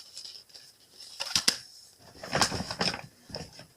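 Scissors snip and clatter in a few quick bursts, close by, with short quiet gaps between handling sounds.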